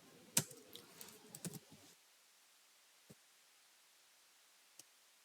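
Keys on a computer keyboard are typed while writing Java code in the IntelliJ editor, a quiet flurry of soft clicks for about two seconds, then two isolated faint taps after a pause.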